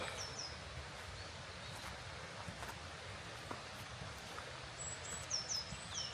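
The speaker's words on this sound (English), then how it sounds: "you can actually hear the birds. Yeah, you can. Lots of bird song." Birds chirp faintly in short calls at the start and near the end over a steady outdoor hush in Scottish woodland at the Birks of Aberfeldy, with soft rustling throughout.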